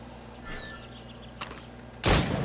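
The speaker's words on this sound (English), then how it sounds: "Shoot these targets." Gunfire at targets in Assassin's Creed Rogue Remastered: a short, sharp shot is followed by a much louder, booming blast that rings out over faint game ambience.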